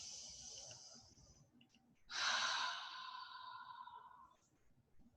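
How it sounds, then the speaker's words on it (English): Deep breathing during a yoga practice: a slow inhale, then a longer, louder airy exhale that fades gradually, close and alone with no talk. "Good, nice deep breath."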